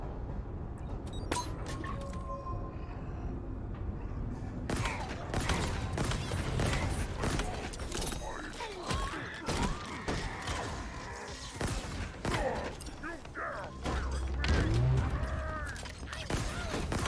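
Rapid explosions and gunfire bursts in the Halo Infinite video game, dense overlapping blasts and thuds filling the scene with busy battle noise, and a voice talking faintly underneath.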